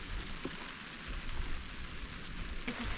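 Steady rain pours down during a storm at a homestead where a shipping container house is being welded, a broad continuous hiss that stays close and even for the whole stretch with no voices.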